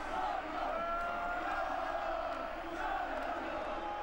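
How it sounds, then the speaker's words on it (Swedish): Home supporters roar and chant continuously in the stands after a goal in a Swedish Allsvenskan football match between Malmö FF and ÖSK, a dense, steady crowd din with sung tones rising and falling throughout. "stort jubel"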